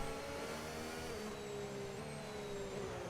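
An F1 25 video-game race car engine holds high revs, a steady buzzing whine whose pitch drifts slightly up and down, continuous and fairly even in loudness throughout, with no voices.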